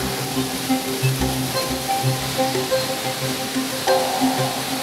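Mountain stream flowing steadily, a continuous close rushing and gurgling wash of water with no pauses, heard on its own without voices.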